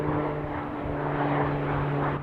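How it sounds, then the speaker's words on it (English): Firefighting aircraft drone steadily over a wildfire, a continuous broad engine roar with a sustained low hum that holds at even loudness throughout. "roughly 10 firefighting aircraft, including helicopters, air tankers, and fire boss planes, dropped enough water to keep the fire from spreading"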